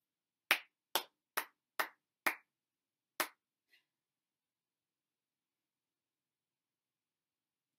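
Single person claps a rhythm pattern in a primary school music lesson: five sharp, close claps in a quick run, a pause, one more clap, then silence.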